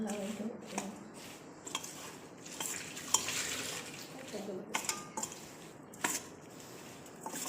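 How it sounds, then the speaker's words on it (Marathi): A spoon stirring chili pickle with freshly added lemon juice in a bowl, repeated clinks and scrapes against the dish in an uneven rhythm, close and moderately quiet, with occasional talk. "आता आपल्याला मस्त मिक्स करून घ्यायचं आहे"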